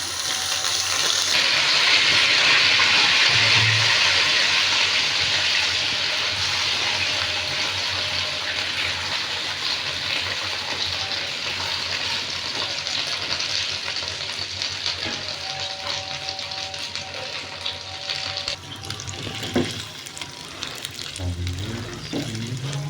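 Soaked milk and semolina for makhandi halwa hit a hot pan, setting off a loud, sustained sizzle that gradually settles into quieter bubbling and stirring, with occasional scrapes near the end.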